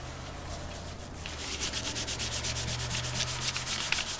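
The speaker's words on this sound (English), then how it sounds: "I'm going to try to rub it in a little." Paste is rubbed into crumpled paper bag material being made into faux leather. The close, rhythmic scratchy strokes speed up into a fast rubbing pattern.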